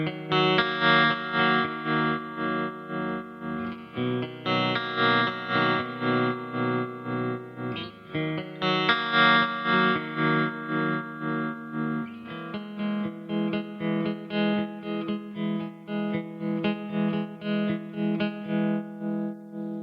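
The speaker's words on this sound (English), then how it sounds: "Added some reverb, and by some I mean a lot." Distorted electric guitar chords through a Laney Lionheart Foundry Super 60 amp ring out, drenched in heavy reverb and washy effects, sustaining and blending into one another in a dense, swirling wash.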